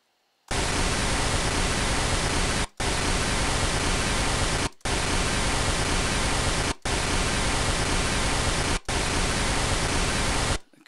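Riser effects from a mixing session play as five long, loud blasts of dense, bright noise, each cut off abruptly by a brief gap.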